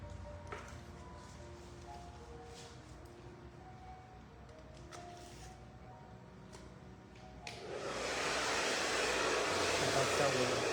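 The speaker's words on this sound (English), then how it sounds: "Blow dry it toward you." A hair dryer blowing on a layered bob haircut in a salon, a quiet hum at first under a voice, then switching to a loud, close, steady whoosh for the final few seconds.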